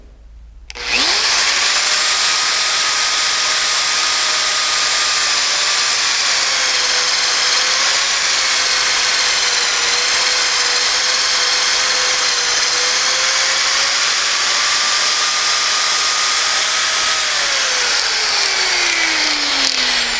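A Wart Millhog pipe beveling, boring and facing tool cuts a pipe, starting abruptly after a brief silence and then running as a loud, steady, high-pitched whining drone with slight pitch shifts, winding down near the end, with no talking.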